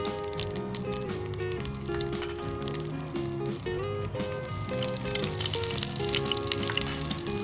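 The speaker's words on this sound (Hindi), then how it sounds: "तो सबसे पहले हम इसके अंदर देसी घी शामिल करेंगे" Desi ghee melting and sizzling in a pan for barley halwa: a steady, moderate frying hiss with light crackles, heard under background music that plays throughout.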